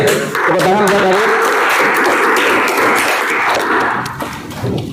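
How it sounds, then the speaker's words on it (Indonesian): A class of students claps together for a classmate during a religious education lesson, a loud, dense burst of hands that holds steady and then thins out toward the end, with some voices mixed in. "Tepuk tangan buat David"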